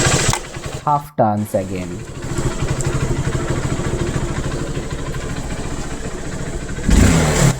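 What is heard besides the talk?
2009 BS2 motorcycle engine idling and revving on E20 petrol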